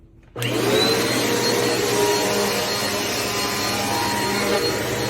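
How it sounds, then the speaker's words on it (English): A Eureka lightweight upright vacuum cleaner switches on abruptly and then runs with a steady, loud whirring drone. There is no talking. "This upright vacuum cleaner from Eureka is everything I was looking for a vacuum cleaner for our office"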